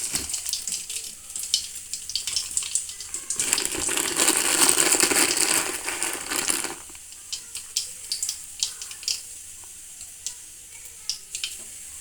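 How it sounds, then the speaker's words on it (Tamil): Mustard seeds splutter in hot oil in a kadai, a burst of dense sizzling and popping in the middle that tapers off into scattered crackles and small clinks. The sound is close and moderately quiet. "எண்ணெய் காய்ஞ்ச பிறகு கடுகு கொஞ்சம் தேவையான அளவு கடுகு போடணும்."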